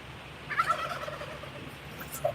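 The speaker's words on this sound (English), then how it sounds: "That's one of my Tom turkeys." A tom turkey gobbles close by, a loud rattling burst followed by a shorter second call near the end over quiet farmyard background.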